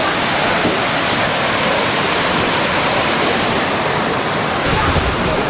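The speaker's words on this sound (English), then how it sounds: "This is like the main waterfall right here" Kuang Si main waterfall in Laos roars as a dense, loud, unbroken rush of falling water filling the whole scene from start to finish.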